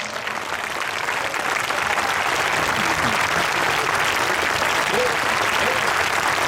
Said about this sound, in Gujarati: Give a mighty clap offering to Jesus.